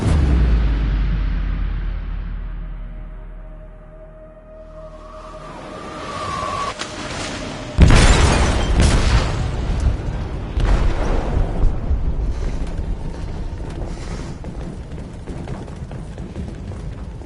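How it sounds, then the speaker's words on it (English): An explosive goes off in a ship's hold in Detroit: Become Human, a fading low rumble giving way to a loud, sudden crashing blast followed by sustained roaring and grinding turbulence that keeps going at high level. "They detonated an explosive in the hold."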